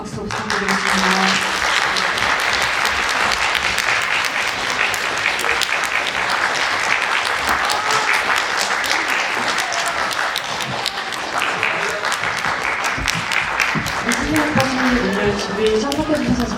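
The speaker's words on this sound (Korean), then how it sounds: "퇴장하실 때까지 큰 박수 부탁드리겠습니다." A cinema audience claps loudly and continuously as guests leave after a Korean screening event for the film 5 Centimeters per Second. The dense clapping fills the room throughout, and a few voices come through near the end.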